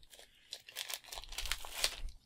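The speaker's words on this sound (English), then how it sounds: "I'm trying to tear this one really nice so I can get off the sticker really nice." Paper wrapper being torn off a Funko Soda can: a run of close crinkling and ripping bursts, uneven and quiet, with soft rustles between the louder tears and no talk.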